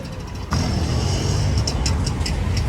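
An auto-rickshaw engine starts up abruptly and then runs at a steady, close idle-to-drive drone, with faint rhythmic ticking over the top as it pulls away.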